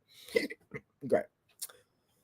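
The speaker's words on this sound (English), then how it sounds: "Now I got the hiccups." A few quiet hiccups come in short, irregular bursts close to the microphone, with brief pauses between them.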